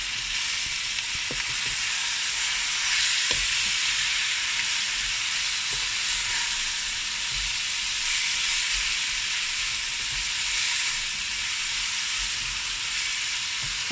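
Tomatoes, onion and ginger garlic paste sizzle steadily in a pan, a continuous bright hiss with occasional clinks and stirring knocks and no talking.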